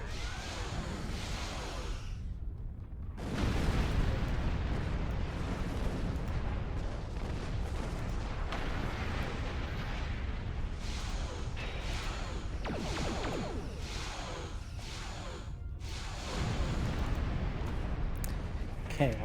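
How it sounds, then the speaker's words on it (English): A full torpedo spread launching in the Star Trek Online video game, with a sustained series of booming, whooshing blasts and rumbling impacts layered over one another for most of the stretch, fairly loud throughout. "so we can just go like full torpedo spread right away"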